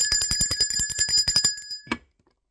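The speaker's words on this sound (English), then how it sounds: "Let me ring the bell for that." A bicycle-style bell rings in rapid repeated strikes for nearly two seconds, ending with one final ding, then silence.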